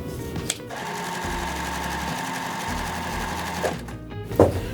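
A sewing machine stitches quilt strips in a fast, steady whirring run close to the listener, with short pauses and a few handling clicks between bursts.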